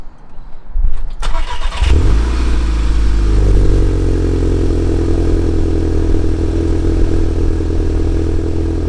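A Volkswagen MK6 GTI engine with a catback exhaust cranks briefly, then fires up and settles into a loud, deep, rumbling idle close by, running continuously.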